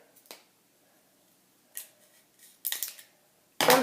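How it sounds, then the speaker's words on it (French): Scissors snip a plastic drinking straw in two during a kitchen-table trick, giving a few sharp, close clicks and crunches spread over several seconds, with the loudest snip at the end. "avec des ciseaux, on vient couper la paille en deux."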